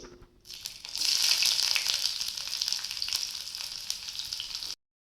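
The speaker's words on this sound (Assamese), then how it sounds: "তাৰ বাবে প্ৰথমতে মই শুকান জলকীয়া আৰু মাহপাত দি দিম।" Dry red chillies, bay leaf and onion dropped into hot oil for chicken biryani, bursting into a bright, loud hissing sizzle after a quiet start, sustained with light crackles, then cutting off abruptly, no talking.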